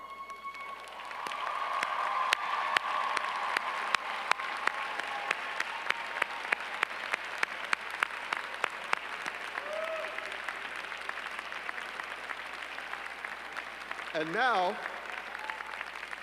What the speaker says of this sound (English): and lead us in applause.